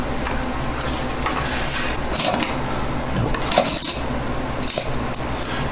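A butter knife prying at the memory cover of a Dell Inspiron N5110 laptop, giving scraping and clicking metal-on-plastic sounds with a few sharper snaps, close up.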